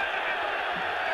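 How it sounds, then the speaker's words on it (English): Football stadium crowd roaring steadily in support of Macedonia against Croatia, a dense continuous wash of cheering voices at constant loudness for about a second. "Certainly the crowd trying to lift the team"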